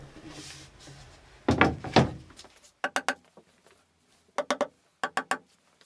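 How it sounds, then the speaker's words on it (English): A series of sharp, hollow wooden taps from a no-mar hammer fitting a drawer front into place, in small groups of two or three, close by, after a brief muffled knock and shuffle. "Tapping it into place carefully with a no-mar hammer"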